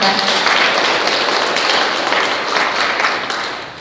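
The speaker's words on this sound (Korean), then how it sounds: "여러분 큰 박수 부탁드리겠습니다." Sustained audience applause for volunteers at a Eunpyeong-gu Volunteer Day ceremony, a dense, steady wash of many hands clapping at close range, loud throughout and tapering slightly near the end.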